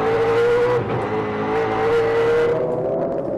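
Trans Am race cars at the 2005 Rose City 100 roar loudly past with a sustained engine drone and shifting pitch as they race into a corner, the sound easing toward the end.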